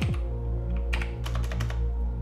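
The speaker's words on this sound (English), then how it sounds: "If I want to block it, I will type here just" Short burst of typing on a computer keyboard while entering a network command, several crisp close keystrokes over a constant low electrical hum, with no speech.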